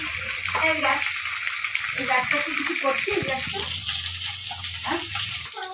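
A steady, hissing sizzle of fish frying in oil runs throughout, with a person talking over it.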